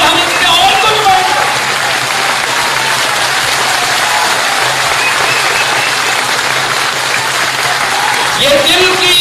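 Sustained, dense audience applause fills a large public gathering at a political rally in Madhya Pradesh, loud and steady throughout with crowd noise and a voice faintly rising near the end.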